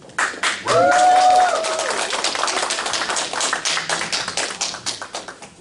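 Applause breaks out to welcome the first-place winner at an award ceremony during a business seminar, dense hand claps filling the room steadily for several seconds, with a brief tonal squeal near the start.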